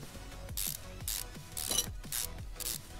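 Ratchet wrench loosening turbo bolts in Car Mechanic Simulator 2015, a rapid clicking ratchet sound repeated in about six even bursts, each followed by a short metallic wind-down, close and clear with no talk.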